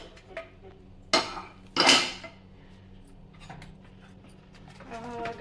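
A pressure cooker of mutton sambar is opened after four whistles, with a few sharp metallic clanks of lid and pot close by, then quieter handling, and a voice speaking over it.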